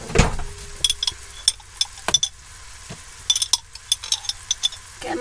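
A spoon clinks and scrapes against a pot while food is stirred, producing repeated light metallic taps and clatters at close range over a low background hiss.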